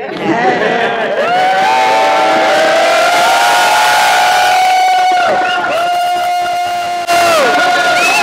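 A large crowd at a water meter protest in Dublin cheers and roars loudly and continuously, with whoops and shouts blending into a sustained wall of voices.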